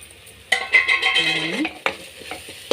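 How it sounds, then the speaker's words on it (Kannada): Spices stirred into frying vegetables in a pan for a vegetable saagu: a spoon scrapes and clinks against the metal while oil sizzles loudly and close in short, uneven strokes. "ಎಲ್ಲವನ್ನು ಮಿಕ್ಸ್ ಮಾಡಿ ಫ್ರೈ ಮಾಡೋಣ"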